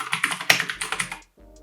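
Rapid, crisp clicky keystrokes on a Keychron mechanical keyboard with blue switches, typed close up in a quick, uneven burst for about a second before stopping into near silence; no talking.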